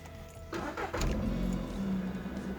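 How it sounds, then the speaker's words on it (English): A car engine cranks and starts right after a check engine light reset with a code reader, the crank catching near one second and settling into a steady, close idle. "Now we're going to start the car."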